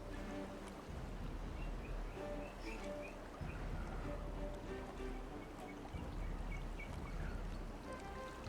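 Water flows in across a Timberborn settlement after a drought, a soft steady rushing wash with low surging pulses, faint and continuous, with light chirping blips scattered over it.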